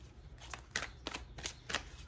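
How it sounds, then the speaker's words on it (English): Four quiet, rapid riffling bursts of cards being shuffled, evenly spaced, close by with no talking. "This deck, but it's so difficult to shuffle."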